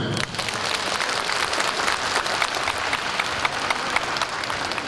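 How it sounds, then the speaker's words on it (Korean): An audience at the opening ceremony of a disability organisations' festival in Bucheon breaks into applause, a dense crackle of many hands clapping at steady loudness. "박수 한번 보내주세요"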